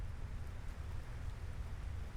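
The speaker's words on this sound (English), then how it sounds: "Why is it raining?" Steady rain falls in Final Fantasy 16, a soft, even hiss of heavy rainfall with a low rumbling undertone, continuous and fairly faint with no voices.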